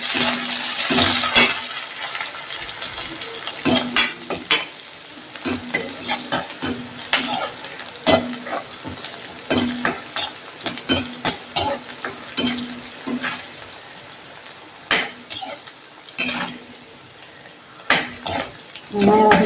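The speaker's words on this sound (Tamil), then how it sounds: "கொஞ்சம் வெங்காயம் வதங்கட்டும் கருவேப்பிலை வதக்கிட்டேன்" Onion and curry leaves sautéing in a pan for paruppu urundai kuzhambu make a loud, near sizzle, with repeated spatula scrapes and metallic knocks against the pan in an uneven stirring rhythm.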